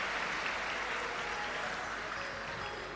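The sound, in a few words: audience applause welcoming the host families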